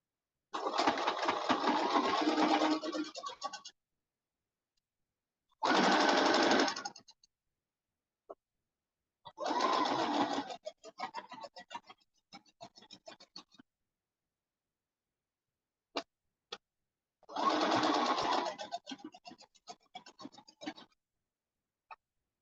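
A sewing machine stitches a seam on a color block hoodie in four separate bursts of rapid, even mechanical chatter, each a few seconds long, with silent pauses and small clicks between runs.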